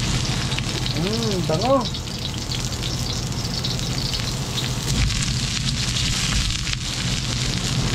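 Garlic hisses and crackles in hot oil in a pan for chicken adobo with lemongrass, a steady, close sizzle throughout with a brief spoken word near the start.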